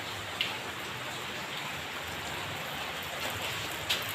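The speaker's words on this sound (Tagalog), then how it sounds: "Grabe ang ulan." Heavy rain pours steadily outdoors at a house under renovation, a dense, even hiss with a few brief louder spatters, no voices.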